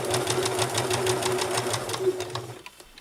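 Sewing machine stitching a fabric seam for a hidden pocket, a close rapid rhythmic needle chatter that slows and stops near the end.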